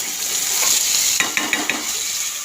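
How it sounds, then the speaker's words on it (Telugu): Bitter gourd pieces fry in hot oil, giving off a steady, bright sizzle, with a few quick clinks and stirs of a utensil against the pan partway through. "కాకరకాయలు ఆయిల్లో కొద్దిగా ఫ్రై చేసుకొని కొంచెం కలర్ చేంజ్ అయ్యే వరకు ఫ్రై చేసుకోండి."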